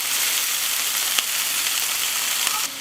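Flank steak searing on a hot grill for fajitas, a loud, steady close sizzle that fills the whole stretch with a couple of faint clicks and no talking.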